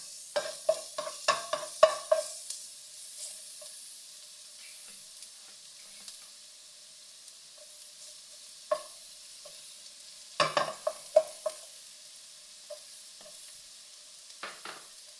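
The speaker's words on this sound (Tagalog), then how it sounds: "Prito lang natin ito guys." Garlic sizzling in hot oil, with bursts of louder crackling and stirring scrapes at the start and again midway, quieter sizzle between.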